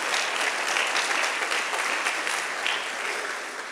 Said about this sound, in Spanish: Dele una ofrenda de palmas al Rey de Reyes y Señor de Señores.